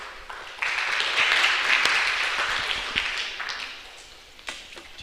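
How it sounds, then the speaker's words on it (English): An audience at a higher-education summit on AI claps for a speaker walking up to the podium. The moderate, slightly distant applause swells quickly and then gradually thins out. "Let's give him a clap as he comes up."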